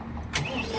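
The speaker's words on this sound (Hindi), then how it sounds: "अब इस ट्रैक्टर को स्टार्ट करके इसकी आवाज़ भी मैं सुनवाने वाला हूँ" A John Deere 5075E PR Perma Clutch tractor engine starts up with a sudden burst of cranking noise partway through, then settles into a steady running rumble, recorded close by.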